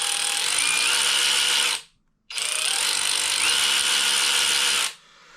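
Kobalt 24 volt brushless cordless ratchet slowly removing bolts, two sustained motor whirs of about two seconds each, separated by a brief pause, loud and close with no talk.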